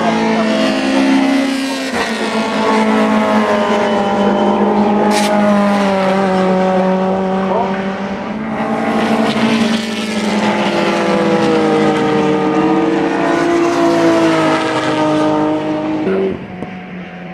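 Race cars on a circuit, including a Mercedes SLK silhouette car, roaring past the start-finish line with loud, rising and falling engine notes and gear changes; close passes blend into one another, with brief announcer-like voices faintly mixed in.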